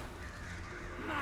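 A crow caws once near the end, fairly loud, over a dense, droning ambient backdrop in World of Warcraft: Shadowlands, in the Maldraxxus zone, with no talking.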